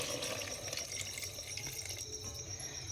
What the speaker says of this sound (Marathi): आपण याच्यामध्ये टाकू जे आत्ता गरम पाणी केलेलं होतं ना ते टाकायचं